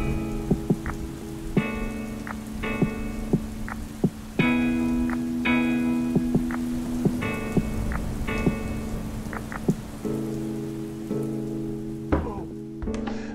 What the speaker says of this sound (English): the rain ended our session a little bit earlier than I would have hoped